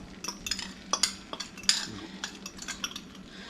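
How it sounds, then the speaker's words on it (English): A utensil scrapes out a bowl after cooking skillet chicken divan on a stove, giving a run of short clinking, scraping strokes at close range with no voices. "scrape out the bowl."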